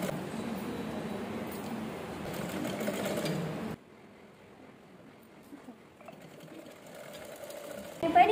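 Sewing machine stitching frills onto a child's langa jacket in a tailoring class, a steady close whir for several seconds that stops abruptly, leaving a quiet room with faint movement.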